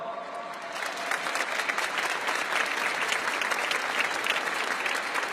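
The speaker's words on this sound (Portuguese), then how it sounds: "uma salva de palmas" Audience applause at a church assembly, a dense, sustained roar of many hands clapping at steady volume throughout.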